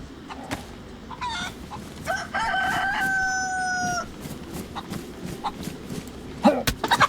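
A chicken in the DayZ survival video game calls out in a drawn-out crowing squawk amid a few scattered clucks, over a rough outdoor ambience with no speech.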